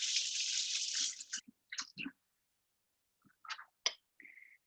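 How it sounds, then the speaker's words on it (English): Tap water runs steadily for about a second as a baker rinses her fingers at a kitchen sink, then stops, followed by scattered faint splashes, drips and handling noises. "So I'll rinse my fingers off."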